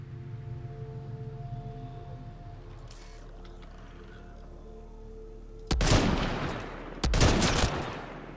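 Two heavy gunshot blasts in Mass Effect Andromeda, a headshot, strike over a low steady game hum, the second following about a second and a half after the first, both loud and close.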